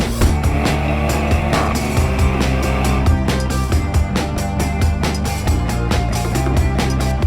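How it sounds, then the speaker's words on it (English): A 2024 Maserati GranTurismo Modena pulls away hard without launch control. Its engine note is loud and rises through the gears, with quick shift breaks and no one talking. "'24 Maserati Gran Turismo Modena without launch control."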